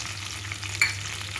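Dried red chillies frying in hot oil in a pan while being stirred for a dondakaya chana dal curry, with a steady soft sizzle and a sharper scrape or clink of the spoon partway through.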